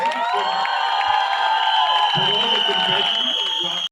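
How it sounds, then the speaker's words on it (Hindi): A crowd in a Mumbai theater cheers and whoops loudly over clapping at a film trailer launch, with shrill voices and a sustained tonal hum running throughout. "इस टीम के लिए जोरदार तालियां हो जाए"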